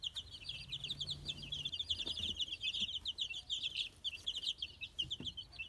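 White Americana chicks and young chickens cluck and peep continuously in a busy chorus of quick, high chirps, fairly close and steady throughout with no talking.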